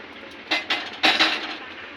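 Dishes and metal pots clink while cooked rice is served at home after a meal of fish with taro, five or six sharp close clanks in quick succession, then fading.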